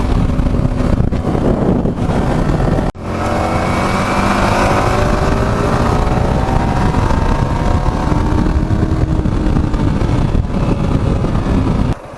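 A Yamaha R1 motorcycle running at steady speed on the road, its engine drone continuous and close, with rising harmonic tones as it pulls, heavily buffeted by wind roar across the microphone.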